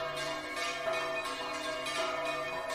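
Church bells of Chivacoa, Venezuela, rung early on a Sunday morning by the sacristan, sustain overlapping metallic tones with periodic fresh strikes, steady and moderately distant throughout.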